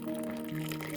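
Boiling water is poured into a pan with seasoned pollock, a brief liquid filling sound with a faint tonal ring, close by and fairly quiet.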